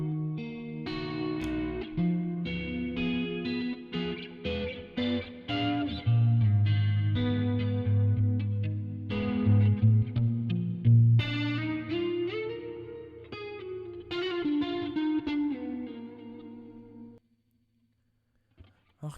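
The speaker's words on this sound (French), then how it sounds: "Reverb." Music with a singer's voice drenched in reverb and effects, sustained layered tones and distorted harmonics running continuously before cutting off near the end.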